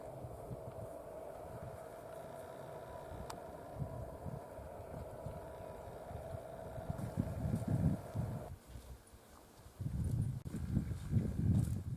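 Steady hoof clomps of a horse walking over soft, wet ground, with splashy, louder steps near the end as it steps onto floating vegetation, against a low outdoor background.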